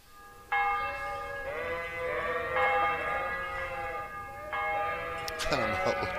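Sheep in the Kingdom Come: Deliverance video game give several drawn-out wavering bleats, one after another, fairly close, with a bell ringing near the end.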